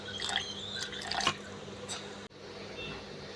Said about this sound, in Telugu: దీనిలో వాటర్ నేను పోయాలంటే ఇదిగో పోస్తున్నాను